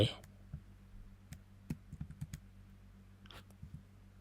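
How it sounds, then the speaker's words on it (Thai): Computer keyboard keys pressed to move through a 3D map of an ancient temple site in Kamphaeng Phet, heard as scattered soft clicks and taps in quiet, irregular and close, with a brief louder burst at the start. "เขาให้ใช้คีย์บอร์ดเดินไป"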